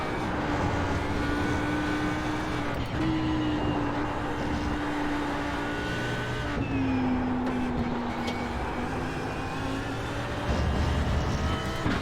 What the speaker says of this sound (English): This is my first ever laps in the Audi and iRacing.